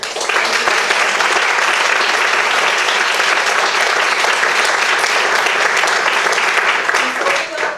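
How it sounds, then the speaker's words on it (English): Conference audience gives a big round of applause for the speakers, loud, dense, sustained clapping filling the room for several seconds with no talk over it. "I would like to have a big round of applause for our speakers"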